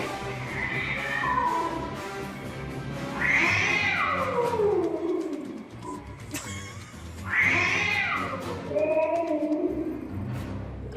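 Two cats square off in a fight, trading long rising and falling yowls and caterwauls, loud and near, with two big drawn-out howls and growling in between.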